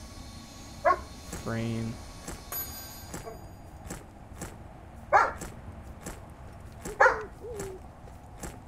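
A dog in the online game ArcheAge: Unchained gives a few short, sharp barks spread out over several seconds, heard up close against a low, busy game background.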